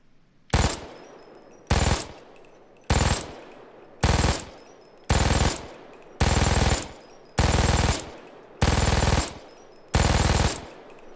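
MG-42 general purpose machine gun, the Buzzsaw 42 in the Payday 2 game, fires nine loud bursts of about half a second each at a steady pace, every burst a dense ripping rattle with short silent gaps between them.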